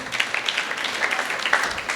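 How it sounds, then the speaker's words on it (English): A hall audience breaks into applause for a motivational speaker's tribute: dense, steady clapping that holds at an even level for two seconds, with no voices over it. "A big round of applause to this great scientist, a great statesman, a great nationalist,"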